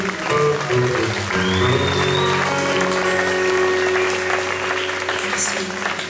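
Applause from a concert audience, a sustained, full, fairly loud roar of clapping with crowd voices and lingering musical tones underneath, holding steady then easing slightly toward the end.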